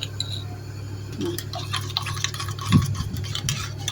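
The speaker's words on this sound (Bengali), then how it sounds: "কিছু গুঁড়ো দুধ নিয়ে দুধের সাথে গুলাইয়ে দিয়ে দেবো" Spoon stirring powdered milk into milk in a pot for lachha semai, light clinks and scrapes with a louder knock near the end, close by and without talk.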